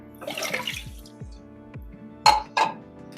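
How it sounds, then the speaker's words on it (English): A cup of water goes into a pot with rinsed cranberries for a candied cranberry recipe, giving short splashy gurgles and sloshes with a couple of sharper splashes near the end. "Adding 1 cup of water,"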